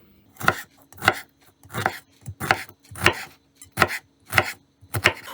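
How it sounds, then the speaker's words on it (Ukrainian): A knife chops through pineapple on a cutting board, about nine firm, evenly spaced cuts, close and clear with quiet between each. "Ананаси теж нарізаю невеличкими шматочками"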